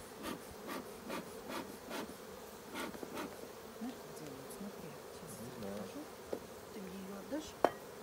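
Honey bees buzz around hive frames during a honey harvest at an apiary, a steady insect drone with occasional handling knocks and rubs close by.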